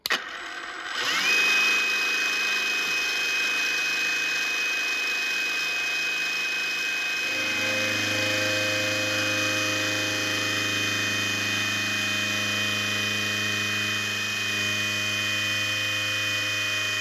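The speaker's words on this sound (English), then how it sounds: "I will do just a 4 millimeter cut in the 70-75 aluminium." A Proxxon MF70 mill with a precision spindle runs a 4 mm cut in 7075 aluminium, a steady high whine with a sustained tone that drops lower as the cutter engages, close and continuous.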